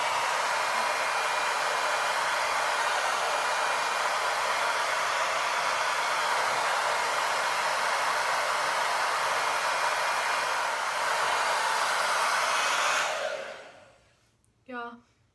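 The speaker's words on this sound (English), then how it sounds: "Step 3, turn blow dryer on." A hair dryer blows steadily at close range, drying curly hair cupped in a kitchen strainer, a loud even whoosh that runs unbroken before cutting off near the end, followed by a brief faint sound.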